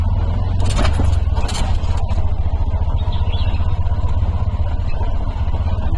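An auto rickshaw engine running close by, a loud low throbbing idle with rattling and a few brief clattering bursts early on, steady throughout without talk.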